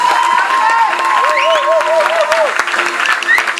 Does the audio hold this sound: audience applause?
yes